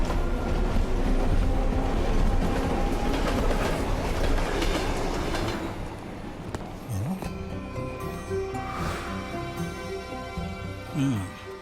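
A train rumbles past on the rails with steady clattering, then slows into lower squealing, grinding tones as it fades.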